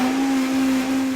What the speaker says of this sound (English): Now it's time to puree this whole mixture that has been stewing for 45 minutes in the blender.